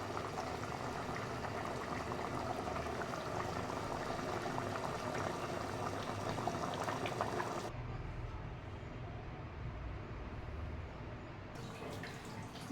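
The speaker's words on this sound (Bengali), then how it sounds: "এবার আমি জল দিয়ে দিয়েছি। এটা ফুটে সিদ্ধ হবে।" Taro curry bubbles in water in a pot, a dense continuous boiling rumble heard close up that thins and softens partway through.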